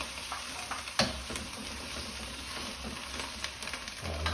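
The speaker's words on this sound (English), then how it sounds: "So we'll let that sizzle up." Chicken with cashew nuts and bamboo shoots frying in a hot pan, a steady close sizzle with occasional stirring clatter and a louder spatter near the start.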